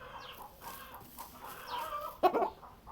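Chickens cluck softly nearby in a village yard, a few short calls and murmurs followed by one louder squawk near the end, faint and alone with no talk.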